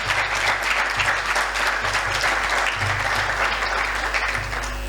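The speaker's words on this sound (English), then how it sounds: "Do I hear a round of applause?" A crowd at a university postgraduate awards ceremony gives a sustained round of applause, dense even clapping filling the hall for the full stretch, with a low hum underneath.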